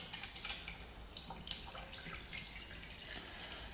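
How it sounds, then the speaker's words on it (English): About 600 cubic centimetres of water pours and splashes steadily into a container, a close, continuous liquid rush with no talking. "So if I put the 600 centimetres cubed of water into it,"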